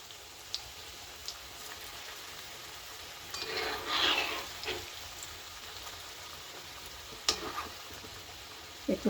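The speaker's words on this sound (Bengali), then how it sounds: "একটু কম আঁচে ভাজতে হবে।" Semolina pitha frying in a pan over low heat gives a soft, steady sizzle with a few brief crackles and spatters, faint and close.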